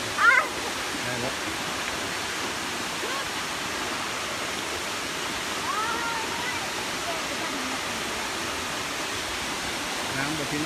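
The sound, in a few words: Tad Yuang waterfall, flowing water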